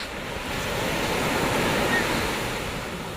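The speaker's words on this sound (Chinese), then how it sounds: "浪非常的小" Very small waves break gently on a summer beach at Rushan Silver Beach, a steady soft wash of surf with some wind, heard alone without voices.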